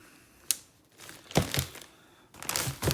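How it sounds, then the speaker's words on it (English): Plastic zip-top bag being sealed around hardneck garlic cloves, heard as a few crinkly, crackling bursts of plastic close by, with quiet pauses between them and no talking. "I'm going to zip these up."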